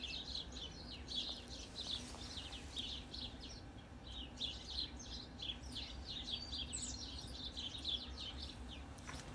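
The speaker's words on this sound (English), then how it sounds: "Lots of little sparrows." Many small sparrows chirp and twitter in a busy, continuous chorus from a backyard, high bright calls overlapping steadily over a low background hum.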